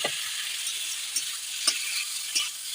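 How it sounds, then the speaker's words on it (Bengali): Potatoes fry in a cooked spice masala, producing a continuous sizzle with occasional soft taps of a stirring spoon against the pan. "এবার আমি মশলাটার মধ্যে আলুগুলো অ্যাড করে দিচ্ছি, দিয়ে আরেকটুখানি ভালো করে কষিয়ে নেব"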